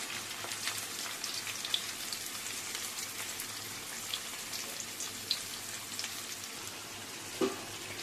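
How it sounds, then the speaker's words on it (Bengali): Chopped onions frying in hot oil for chicken darbari, a steady crackling hiss throughout with a few sharper pops, close and moderately loud, no voices. "ফার্স্টে দিয়ে দেব পেঁয়াজ কুচি গরম তেলের মধ্যে সব পেঁয়াজগুলোকে এভাবে দিয়ে দেব"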